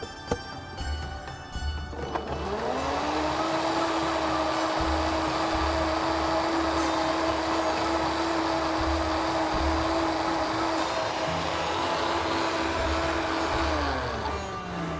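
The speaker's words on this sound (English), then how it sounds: "place it over here and process it till it's super fine." A food processor grinds ginger with water until very fine. Its motor spins up from about two seconds into a loud, steady whir that holds for roughly twelve seconds and then winds down, with a low rattle underneath throughout.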